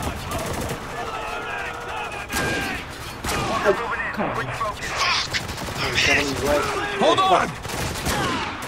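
Gunfire from the video game Spec Ops: The Line, scattered bursts of shots across the clip, mixed under in-game sounds and players talking over the action.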